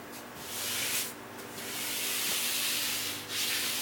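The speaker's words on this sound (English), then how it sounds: "Now you notice I'm not just sanding where the gouge was." Hand sanding of wood veneer on a dresser cabinet, a steady broad rasping hiss in long strokes with brief pauses between passes, close and fairly loud with no talking.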